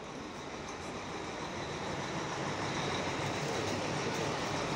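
A metro train rumbles steadily through a station in a continuous low, even roar without distinct clicks, heard alone and fairly faint.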